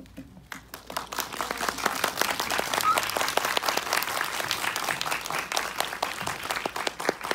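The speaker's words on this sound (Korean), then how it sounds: "나오시면 큰 박수 부탁드릴게요." Cinema audience at a film talk event in a Seoul theater applauding as the director and actress come out, dense clapping that swells within the first second and holds steady and loud throughout.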